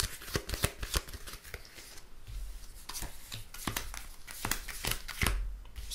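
Playing cards for the TimeBomb board game slide and shuffle across a tabletop in quick, close papery scrapes and flicks that come in irregular bursts.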